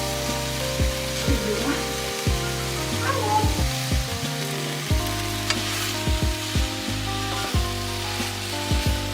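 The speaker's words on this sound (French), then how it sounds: "pendant que vous avez vos oignons et vos légumes qui cuisent" Onions and vegetables sizzle in a frying pan for a vegetable noodle stir-fry, a steady close hiss broken by frequent clattering knocks from stirring, with a faint tonal hum underneath.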